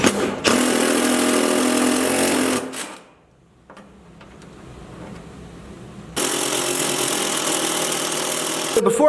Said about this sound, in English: I drill them out to a 9/16.